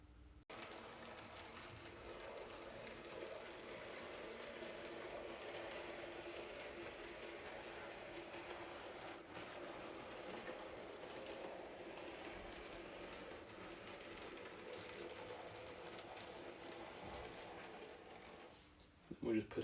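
An N gauge model train runs along layout track with a faint, continuous whirring motor hum and light rolling rattle, steady throughout and ending with a couple of brief clicks.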